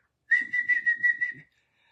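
A voice imitates a traffic cop's whistle with a steady, shrill whistled tone broken into about six quick pulses over a little more than a second, close and clear with nothing behind it.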